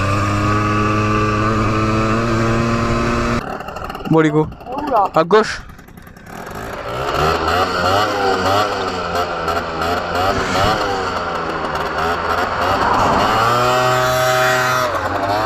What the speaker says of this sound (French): de vous tester la vitesse max du scooter avec la nouvelle ligne.